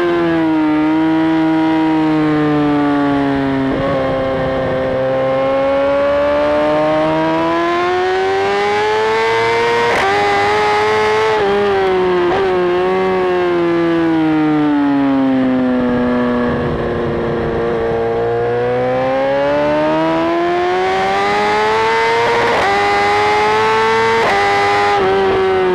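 A BMW S1000RR motorcycle at full throttle down the Le Mans straight on a trackday, a loud, sustained, high-pitched engine wail rising and falling through gear changes, close up.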